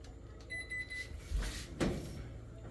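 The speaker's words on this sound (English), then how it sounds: "The alarm is going off. It's been 30 minutes." A kitchen timer alarm sounds briefly as a few faint electronic beeps, with soft kitchen clatter and a louder knock around it, while bread bakes in the oven.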